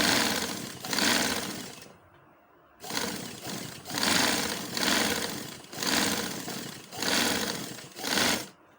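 An electric sewing machine runs a seam along a shalwar leg, whirring in loud close bursts of about a second each, with one longer pause near the start and quick stop-start rhythm afterward.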